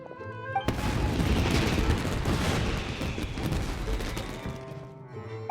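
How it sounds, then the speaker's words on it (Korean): Fireworks burst in the video game Genshin Impact: a sudden loud explosion, then a dense, sustained crackling barrage of pops and booms that slowly thins out over several seconds. "눈길을 돌리는 데는 폭죽이 짱이구나."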